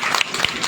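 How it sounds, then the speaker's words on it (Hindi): Crowd applause at a village political party gathering, a short burst of clapping from an audience. "एक बार जोरदार तालियां डॉक्टर साहब के लिए।"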